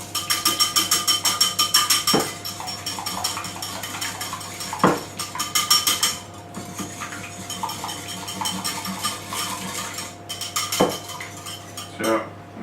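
Eggs beaten in a bowl for homemade fried chicken, a fast rhythmic clinking of utensil against dish in steady runs broken by a few sharp taps, close and loud, with no talking.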